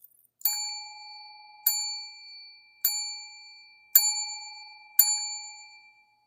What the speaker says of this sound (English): I totally enjoy the sound of bells